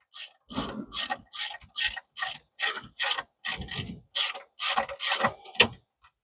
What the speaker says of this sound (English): but now what we want to do is tighten it.